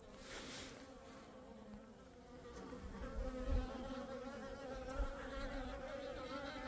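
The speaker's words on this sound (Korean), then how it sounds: "요놈도 동양종 꿀벌." Asian honeybees buzz around a hive in February, a dense faint swarm hum with individual bees droning past close by, steady and low with a few louder passes.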